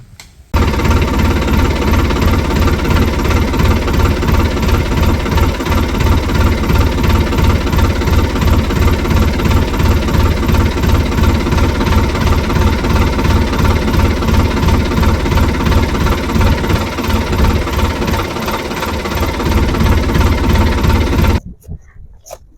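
A farm tractor engine runs steadily at close range with a continuous loud chugging drone, then cuts out abruptly near the end, leaving silence.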